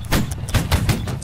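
A musket line volley in the video game Holdfast: Nations at War: a rapid ragged burst of overlapping booming shots rolling together for about a second, loud and close.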